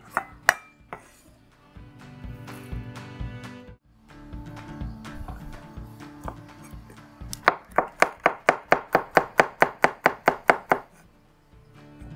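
Garlic being roughly chopped with a knife on a board: scattered taps at first, then a fast run of about a dozen sharp, even strikes, close and clear with no talking.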